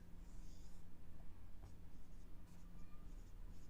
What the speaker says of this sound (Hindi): इसका नाम लिख देते हैं बेस